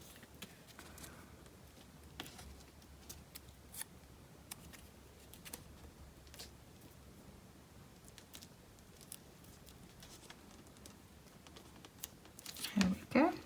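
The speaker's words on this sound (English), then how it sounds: "I'm going to just cut this and stick it on where it would be in the middle" Scissors cut through card while a Christmas card is being made, giving faint, scattered snips and paper crinkles in a quiet room, with a louder rustle of handling right at the end.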